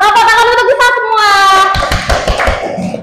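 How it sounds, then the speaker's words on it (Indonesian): A classroom of children clapping their hands together, a burst of claps rising after a teacher's voice, with voices over the start. "Tepuk tangan untuk kita semua."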